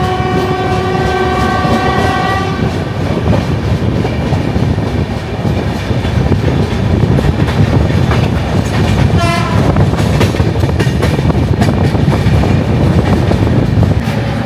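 The 12857 Tamralipta Express rumbles along loudly with continuous rail clatter, its horn sounding in long blasts early on, then repeated rhythmic clicks of wheels over joints.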